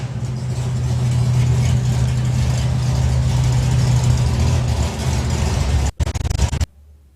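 A drag racing car's engine at a national finals meeting runs with a loud, steady, low rumble close by, then cuts off abruptly near the end, leaving near silence.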